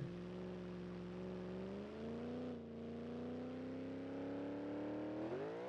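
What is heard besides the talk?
car engine revving, missed gear shift, video game BeamNG.drive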